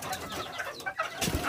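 Month-old young birds in a cage give soft cooing and chirping calls, several short close notes with a louder burst near the end.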